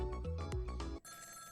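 A telephone rings in the Ghost Trick video game: electronic bell trills with repeated tonal bursts for about a second, then the ring cuts to a softer sustained tone.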